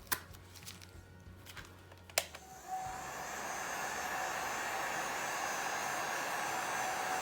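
A heat tool used to soften resin drips on a painting starts after a couple of sharp clicks and handling sounds, then blows a steady, close, loud whooshing roar that continues without a break.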